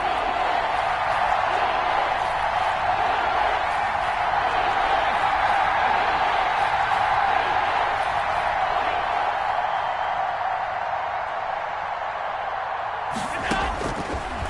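A stadium crowd in a PS4 football video game roars steadily throughout, a constant broad wash of cheering with a few sharp hits near the end; a commentator's voice is barely present.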